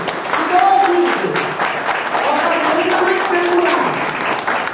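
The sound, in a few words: audience applause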